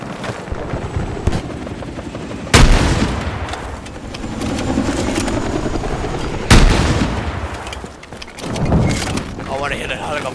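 Video game combat with a helicopter's steady rotor drone under bursts of gunfire and a couple of sharp heavy booms, loud and busy, with a player talking over it.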